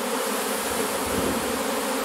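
A large honey bee swarm buzzes in a dense, continuous drone that stays steady and loud throughout, heard up close with no talking.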